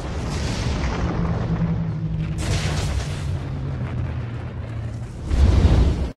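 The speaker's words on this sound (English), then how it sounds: "it's the Troublemaker Studios explosion logo" Explosion sound from the Troublemaker Studios logo: a sustained roaring rumble with a sharp burst midway, ending in a louder, deep boom.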